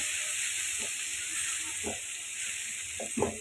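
Ginger-garlic paste frying in a pan, a steady bright sizzle throughout with a few soft stirring scrapes; no voices.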